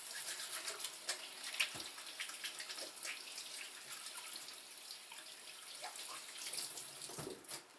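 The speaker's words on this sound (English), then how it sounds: "let me go ahead and wash my hands" A kitchen faucet runs steadily while hands are washed before rolling lumpia wrappers, a soft broadband hiss with occasional splashes and clatters, moderately close and without any talking.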